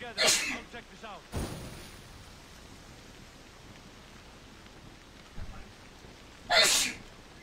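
Sneezes ring out in a quiet room, one sharp sneeze at the start and another loud one near the end, separated by soft background hiss and a brief thump.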